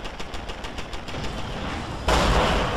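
Rapid automated turret gunfire in Deus Ex: Human Revolution, a steady stream of repeated shots that suddenly grows louder and denser near the end.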